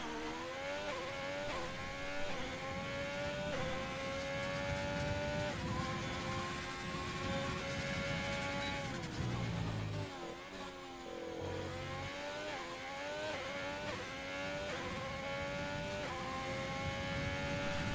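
A racing car engine revs and shifts repeatedly, pitch climbing then dropping in steady cycles, loud and continuous without any voices.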